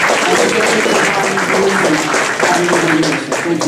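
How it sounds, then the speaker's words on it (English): An evening tech meetup audience applauding its sponsors in a room at Google, steady loud clapping throughout, with faint voices and brief tonal sounds murmuring underneath. "I'd like to give a round of applause for both our sponsors this evening for Google for hosting us."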